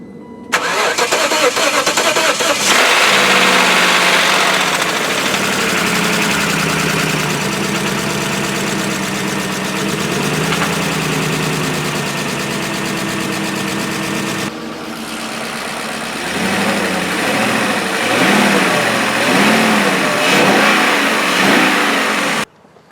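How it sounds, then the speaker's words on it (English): A BMW M62TU B44 V8 car engine cranks and starts cold, settles into a loud steady idle, then drops briefly before the revs climb again in several rising surges. "I'm gonna start it and see if it's all good"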